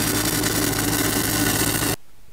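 A red face SA200 engine-driven welder runs in third gear, a loud, steady, buzzy engine drone that stops abruptly after about two seconds.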